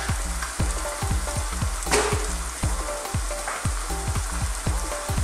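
Thick long-life cooking cream poured into a hot steak pan sizzles loudly and steadily, a dense frying hiss with repeated soft clicks and a brief louder splash burst partway through; no talking.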